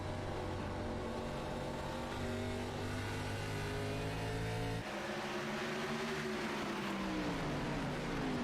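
ARCA stock cars racing at the Nashville Fairgrounds, their engines droning loudly and continuously as several cars run together, with pitch rising and falling through the laps.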